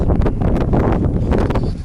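Strong wind buffeting the microphone on a seaside walk, a steady loud low roar with gusty surges and rustling throughout, no speech.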